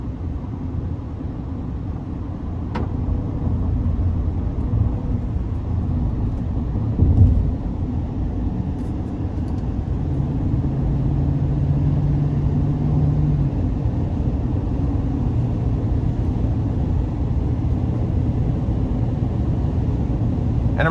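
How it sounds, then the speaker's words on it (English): Cabin of a 2020 GMC Sierra 3500HD Denali dually with a 6.6 diesel, cruising at 75 on the freeway: a steady, loud low drone of engine and road noise that holds nearly unchanged throughout, with no talking. "Even though it's a dually, it's just coasting down the freeway."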